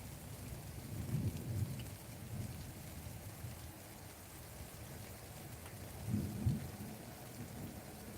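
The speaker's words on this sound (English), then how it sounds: "Oh no, that sounds like it's getting closer. The thunder" Steady rain pours down during a thunderstorm while low rumbles of thunder roll in twice, the second swelling closer and louder, with no voices over the downpour.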